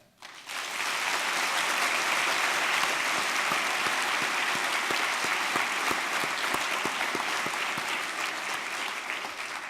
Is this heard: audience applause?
yes